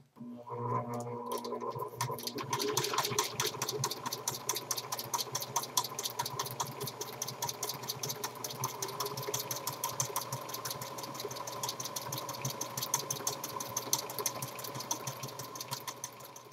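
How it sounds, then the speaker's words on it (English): A sewing machine stitches Velcro onto a cloth diaper, a fast, steady mechanical whir with rapid needle ticks that runs continuously and close by. "And finally, I'm going to sew on the Velcro."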